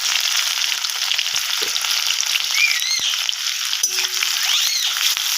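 Onions fry in a pan with bay leaves while being stirred, a loud, constant close sizzle with a few faint utensil clinks.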